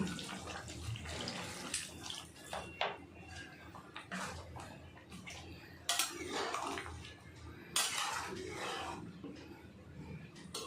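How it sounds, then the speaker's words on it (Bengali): Water poured into a pot of bottle gourd and prawn curry, with steady splashing and pouring, clinks of pots and utensils, and a few louder bursts near and in the foreground. "জল দিয়ে দেবো"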